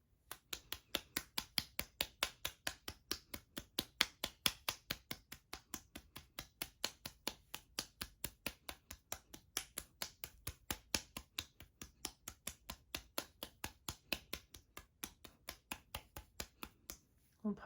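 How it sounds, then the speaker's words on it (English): Hands clap up and down a wrist and forearm in a steady, rapid rhythm of soft, close slaps that continues throughout. "And now we're going to clap up and down the wrist and the forearm."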